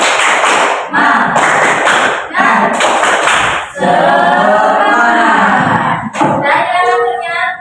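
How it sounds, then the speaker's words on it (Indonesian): A class does a rhythmic spirit clap in quick patterned bursts, sharp hand claps in tight groups separated by short pauses, loud and close, with voices singing or chanting between and alongside the clapping. "Tepuk semangat."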